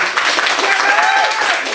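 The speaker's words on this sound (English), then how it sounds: "Give him a massive, massive round of applause." A comedy club crowd gives a short burst of applause and cheering for a stand-up comedian, loud and dense, with a voice or two calling out over it.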